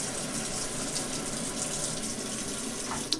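Water runs from a tap into a kitchen sink in a steady, fairly faint splashing stream, with a small clatter near the end.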